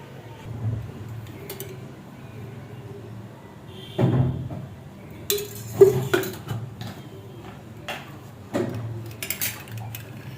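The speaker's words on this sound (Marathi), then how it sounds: "अगोदर मी इथं कढई ठेवली आहे, आता कढईमध्ये तेल टाकूया।" A metal wok set down on the stove with a few clanks and scrapes, then oil poured in, heard as scattered close knocks and clinks over a quiet kitchen background.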